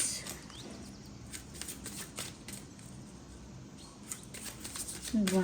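Tarot cards shuffle softly in the hands, a quiet fluttering riffle in repeated bursts, with a short voice at the very end.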